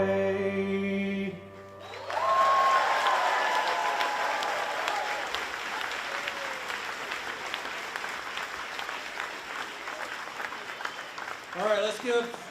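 Crowd applause for two musicians at the Fancy Farm political gathering in Graves County, Kentucky, swelling in loudly after a sung song ends, then continuing steadily before a voice speaks near the close.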